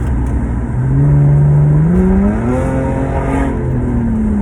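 A car engine runs steadily close by, its pitch rising and shifting as the driver accelerates through gears, with a continuous loud hum and no talking.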